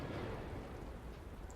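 Rain spell cast in the video game Divinity Original Sin 2, a brief dense wash of falling rain with a low rumble, steady and full for a moment without talking.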